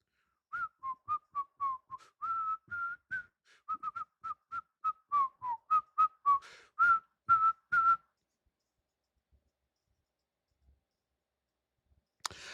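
A person whistles a quick string of short, clipped notes in an even rhythm, clear and fairly close, then falls quiet, with a sharp click at the very end.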